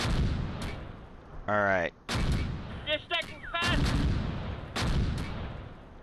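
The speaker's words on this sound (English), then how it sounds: "We'll just use up all of our mortar rounds" Mortar fire in the Close Combat WWII strategy game set around Caen, 1944: several loud booming blasts and rumbling impacts in quick succession, with a brief spoken word in between.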